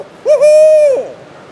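A person imitates an owl hoot with the natural voice as a turkey-hunting locator call: one loud, sustained hoot that rises and holds, then falls away, heard alone.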